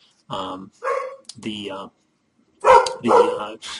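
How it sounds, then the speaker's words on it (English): A dog barks in a burst of five or six loud, close barks, spaced in two groups with a short pause between, heard on its own without talk. "there's my dog again"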